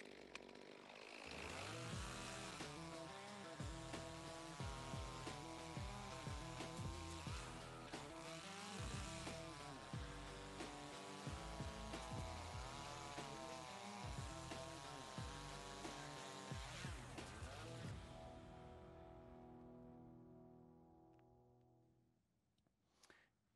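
A CS2511P rear handle chainsaw runs loud and close, its engine revving up and down repeatedly under load for about twenty seconds before cutting off and winding down to silence.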